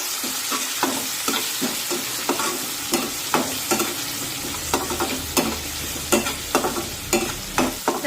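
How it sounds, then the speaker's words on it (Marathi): Finely chopped tomato cooking in a pan for a potato curry, with a steady close sizzle and regular spatula scrapes and taps against the pan as it is stirred, no voices. "आता यामध्ये एक बारीक कट करून घेतलेला टोमॅटो टाकूया आणि हा टोमॅटो सुद्धा छान मऊ होईपर्यंत शिजून घेऊया"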